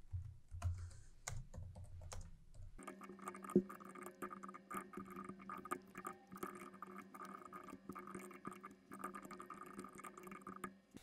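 Fingers tap on a computer keyboard in quick, irregular bursts of keystrokes, close and fairly quiet, while an English description is typed.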